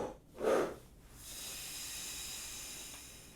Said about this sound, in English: let's exhale in the shape of our embouchure